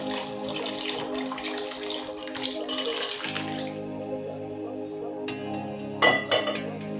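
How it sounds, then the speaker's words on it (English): Chicken stock pours into a pan of Ghanaian jollof rice in a steady liquid rush that lasts a few seconds before easing off, then a single metallic clink near the end. "So now I'm coming to add my stock now."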